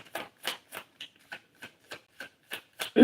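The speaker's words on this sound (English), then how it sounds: "I'm going to pull a couple more cards." Tarot cards shuffled by hand in a steady run of about ten crisp riffling bursts, each a short papery slap, close and fairly quiet with brief pauses between them and no talk.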